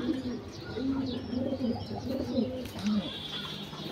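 Pigeons coo in low, rolling repeated calls near a spot where pigeon feed is drying in the sun, several birds overlapping steadily over faint background chirps.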